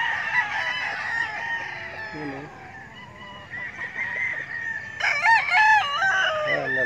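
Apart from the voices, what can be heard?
roosters crowing at game farm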